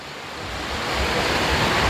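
Strong wind during heavy rain, a broad rushing roar that builds steadily louder, with gusty noise buffeting the microphone and no voices.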